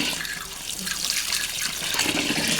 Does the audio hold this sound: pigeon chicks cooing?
no